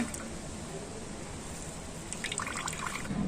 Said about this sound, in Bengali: যতটা সম্ভব হাত দিয়ে এরকম জল বার করে দেব।